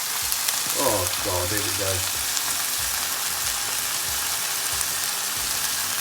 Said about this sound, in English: I've got a little stir fry on the go with some sweet chilli. I'm going to put them in and see what happens.